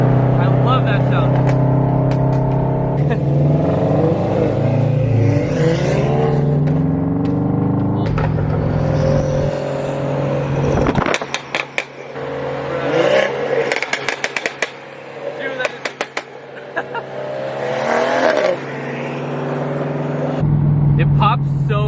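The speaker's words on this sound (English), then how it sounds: "It like pops in between shifts." A Scion FR-S and BMW F30 340i with loud aftermarket exhaust driving hard, engine revving up through gears with sharp pops and crackles between shifts, heard from inside the car under close talking.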